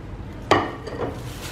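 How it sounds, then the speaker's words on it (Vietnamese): Coarse salt, a full kilogram, hits a cooking pot for salt-steamed chicken with lemongrass, a sudden gritty clatter followed by a couple of softer rattling spills, close and brief. "bây giờ mình sẽ cho hết 1 kg muối hột vào trong nồi"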